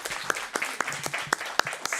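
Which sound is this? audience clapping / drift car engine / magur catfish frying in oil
audience clapping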